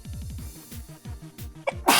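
A single sharp human sneeze bursts out at the very end, preceded by a few quick catching breaths and some low indistinct noise.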